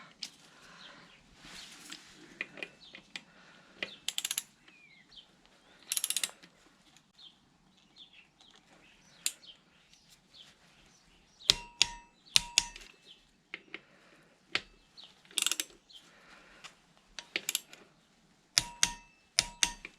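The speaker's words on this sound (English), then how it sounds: "you need to torque those two bolts up to 24 Newton meters." A torque wrench tightens the rear brake caliper bolts on a BMW R1200GS to 24 Nm, giving sharp mechanical clicks and ratcheting bursts in irregular clusters, close and fairly loud over a quiet workshop background.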